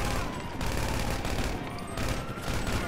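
Micro SMG gunfire in a video game, a dense continuous rattle of rapid shots filling the whole stretch, loud and close with no pauses.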